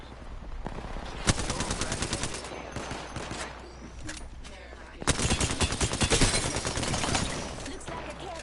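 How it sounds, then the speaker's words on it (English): Rapid automatic gunfire in the video game Apex Legends, two close, loud bursts of rattling shots separated by a lull, with a few scattered single shots in between. "I am taking fire."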